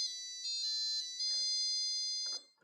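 A tune beeps from a Databot in shrill, sustained electronic notes, then stops abruptly, with faint background noise in the pauses.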